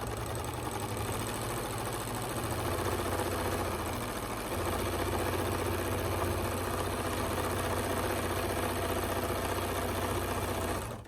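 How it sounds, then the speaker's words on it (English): A sewing machine stitching through very thick quilted layers of a hot pad: a continuous low motor hum with a dense mechanical whir, steady and close for about eleven seconds, with no talking. "I'm going to sew across here as well."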